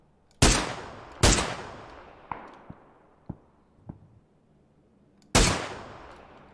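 Gunfire in PUBG on the Miramar map: a handful of sharp, loud shots with long decaying tails, two early blasts, then several fainter, more distant cracks, and one more loud report near the end, with no talk.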